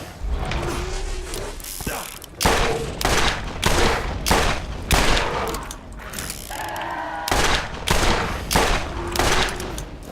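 Rapid bursts of gunfire from a Tediore gun in Borderlands 1 crack out loud and close, repeating in quick volleys across the whole stretch alongside clicking mechanical reload sounds.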